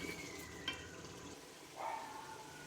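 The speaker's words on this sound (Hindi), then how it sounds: "2 से 3 मिनट तक आप इसी तरह इनको भून लें।" Minced meat with potatoes and peas fries and gets stirred in a pan, a quiet sizzle broken by a few soft scrapes and clinks of a spoon.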